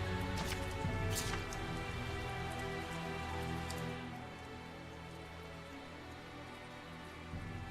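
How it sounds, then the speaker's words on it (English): Steady rain falls in the video game Tales of Zestiria, a dense even hiss of drops on surfaces that softens slightly partway through, with no talk over it. "Is it because of all the stupid rain?"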